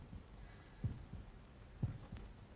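A faint, muffled heartbeat effect pulses against a person's chest in a science-fiction setting, with soft low double thumps roughly once a second over a steady background hiss.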